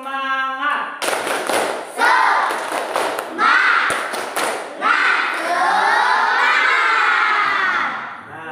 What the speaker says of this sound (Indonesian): Bapak minta satu kali tepuk semangat.